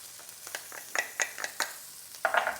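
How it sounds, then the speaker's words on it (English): Red curry paste and garlic frying in hot oil while being stirred and broken up, a soft steady sizzle with a string of short scraping stir strokes, close by. "we're gonna toast this in hot oil, break it up, release all those spices, aromatics"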